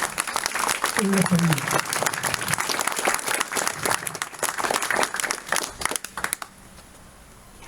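Applause for guests at a French exhibition event about the demarcation line, lively hand clapping from an audience that runs several seconds before fading out, with a brief spoken phrase over it.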